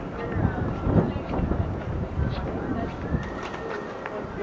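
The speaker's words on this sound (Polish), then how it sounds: "gołębie" Pigeons cooing outdoors by a hotel waterfront with yachts in Nassau, Bahamas, soft low calls mixed into wind buffeting and someone talking nearby.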